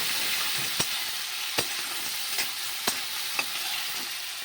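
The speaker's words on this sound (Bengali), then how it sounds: "এইবার ভালো করে নেড়ে চেড়ে গুগুলিটাকে আমি একটু ভেজে নেব।" Apple snails (guguli) fry in a pan with salt and turmeric, giving a steady close sizzle broken by a few sharp scrapes of stirring at regular intervals.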